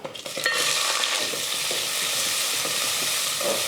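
Two large onions and four green chilies tossed into hot oil with cinnamon, cloves and cardamom for kuska, bursting into a loud, sustained sizzle with stirring scrapes, close and continuous with no talk.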